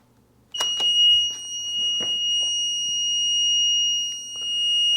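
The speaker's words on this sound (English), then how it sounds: "that's a long beep" A 2002 Sea-Doo GTX DI jet ski's warning beeper sounds one long, steady electronic tone lasting several seconds, loud and close, with a few faint clicks and knocks from a repair bench underneath.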